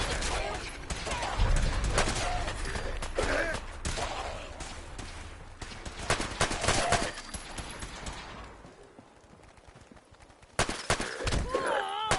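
Gunfire in Fallout 4 as sharp shot bursts and crackling volleys over a busy battle, with talking voices throughout, a quieter lull, then a sudden loud burst near the end.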